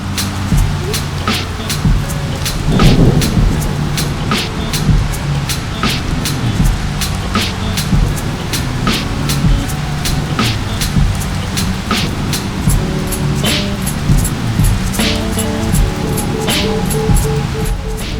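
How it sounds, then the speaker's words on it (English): Steady rain falls during an outdoor shoot, a constant hiss with scattered sharp drips and taps, under a low rumble of passing vehicles. "now it's raining"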